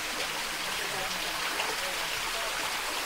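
Waterfall at Quinta da Regaleira in Sintra, a steady, broad rushing hiss of falling water that stays even and unbroken throughout, heard close up.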